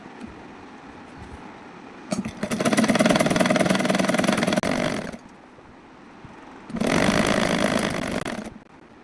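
Sewing machine stitching scrap fabric with plastic pinned on for a toddler girl's frock, running in two loud buzzing bursts of about three and two seconds separated by a quieter pause.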